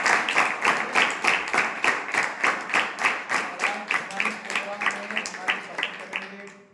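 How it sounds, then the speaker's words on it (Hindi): Clapping from a school audience for guests at a class presentation, a loose, rhythmic patter of hands that gradually thins out, with voices talking underneath. "उन सब के लिए जोरदार तालियां बजाएगा।"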